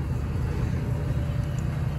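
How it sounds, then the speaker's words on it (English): Washing machine and clothes dryer running together indoors, a steady low rumbling hum that fills the whole clip at a moderate level with no talk over it. "that sound you hear is the washer and the dryer"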